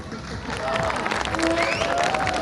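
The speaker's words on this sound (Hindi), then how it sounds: "लड़कियों की तरफ से तालियां भी आ रही हैं।" Applause and cheering from young women in a studio audience during a live cricket talk show, a steady crackling clatter of many hands with crowd murmur at moderate loudness, rising slightly after the first half second.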